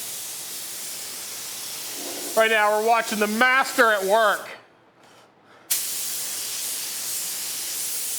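Undercoating sprayed onto the underside of a rusty 1958 car, a steady broad hiss that stops for a moment and then starts again, with someone talking over the first part.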